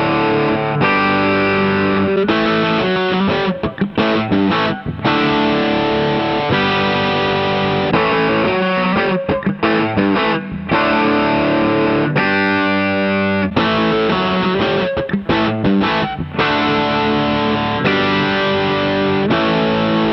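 Heavily distorted electric guitar played through vintage EV speakers, strumming big sustained chords with brief gaps between changes, loud and continuous for about twenty seconds, no talk.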